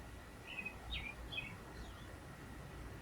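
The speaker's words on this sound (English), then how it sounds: "The birds always make it sound so nice" Birds chirp outdoors in the early morning around 4:40, a few short, faint tweets scattered over a quiet low rumble of background noise, with no one talking.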